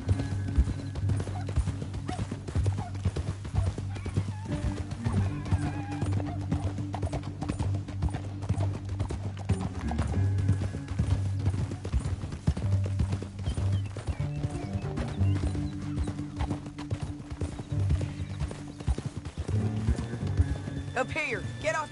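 Horses in Red Dead Redemption 2 gallop with a constant rapid clip-clop of hooves, steady and close for the whole stretch, with game music and character dialogue running over it.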